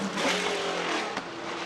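A Porsche 917K race car's flat-12 engine roars loud and steady at high revs, a dense continuous snarl with a brief spike near the end, heard alone without talk.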